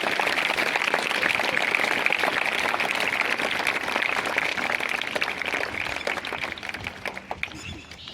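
Dense, steady clapping from a school audience honouring two students at KCM Senior Secondary School, filling the room evenly before tapering slightly near the end.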